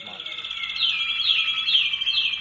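An American Singer canary sings a bright, high warbling song, with repeated descending chirp phrases at a moderate, close level, steady and unaccompanied by talk.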